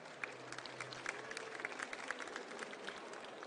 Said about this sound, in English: round of applause for you being here today